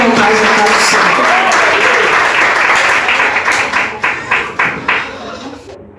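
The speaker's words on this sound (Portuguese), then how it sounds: "Que as palmas louvem o nome do Senhor" A church congregation applauds at a New Year's Eve service, a dense wash of clapping that thins into a few separate rhythmic claps before stopping, with voices heard over it.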